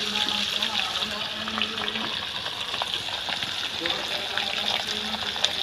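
Green chili and onion dropping into hot oil already cooking cumin and ginger, for a malai kofta curry, giving a steady close frying sizzle with watery hiss throughout, under faint background voices.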